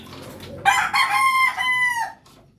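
Chickens crow and cluck loudly up close at feeding time, a rooster-like call rising in bursts for about a second and a half before fading to quiet.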